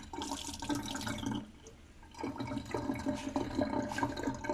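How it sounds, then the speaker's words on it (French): Laboratory suction system drawing supernatant out of a urine tube: a gurgling, sloshing watery slurp that runs steadily, dips briefly partway through, then resumes, close and moderately loud with no talk. "Vous voyez, il fait une espèce de succion."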